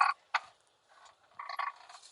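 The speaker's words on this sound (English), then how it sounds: "It is the bushing that goes around the steering column." Squeaks from a worn steering column bushing on a Daihatsu dump truck: a few short, fairly quiet squeals, two sharp ones early, then a softer, longer run of creaks near the end, with no voices.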